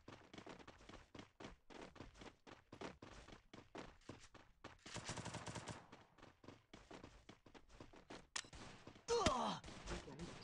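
Thompson gun firing in Free Fire, rapid evenly spaced shots in a long rhythmic string, with a noisier burst midway and a louder blast near the end.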